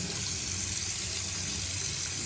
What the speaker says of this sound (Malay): lalu cuci bagi air lagi